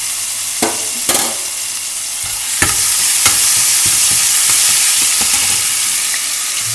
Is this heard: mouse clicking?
no